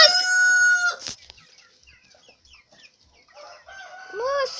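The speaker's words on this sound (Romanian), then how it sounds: "Zic cucurigu!" A rooster crows loudly near the start, followed by quieter bird chirps and clucks, then another rising crowing call toward the end.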